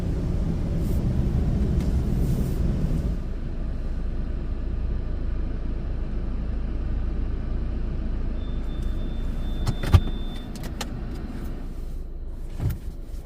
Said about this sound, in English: Our undercarriage blast.